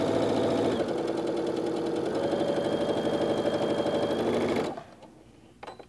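A sewing machine hums and clatters steadily while stitching a quilt block seam, running close and even for several seconds before stopping abruptly, followed by faint handling noise.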